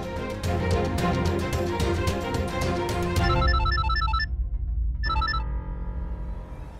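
A telephone rings repeatedly and goes unanswered, its electronic ringing pattern fairly loud over a steady musical background, pausing briefly before ringing again.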